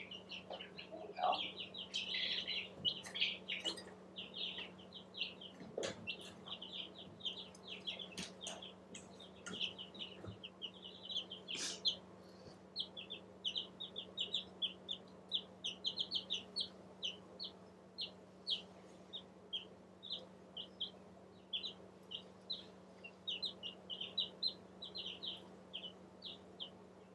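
Chickens cluck repeatedly in short, frequent calls through the whole stretch, fairly close, with a steady low hum underneath and a few sharp knocks near the start.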